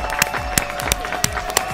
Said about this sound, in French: bravo. On s'applaudit.